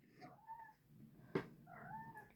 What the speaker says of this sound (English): Oh, here's my other cat, Phoebe.